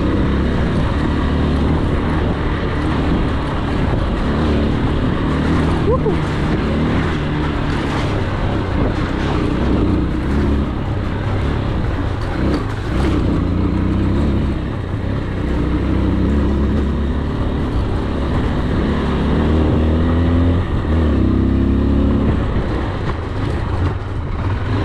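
A 2023 AKT TTR 200 motorcycle rides an off-road dirt trail, its engine a loud, continuous drone that rises and falls with throttle changes throughout, mixed with rumbling wind and terrain noise.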